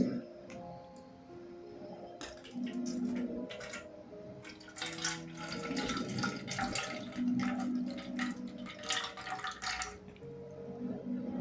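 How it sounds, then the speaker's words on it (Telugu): Water pours and splashes into a container in uneven bursts, with some clattering and a faint tonal hum underneath. "ఇంకొంచెం వాటర్ పోసుకొని మిగతాది కూడా ఇందులో పోసుకోవాలి"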